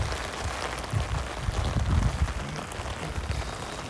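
Steady rain falls and patters on a surface, a dense close hiss with heavier drops swelling midway, with no voices over it.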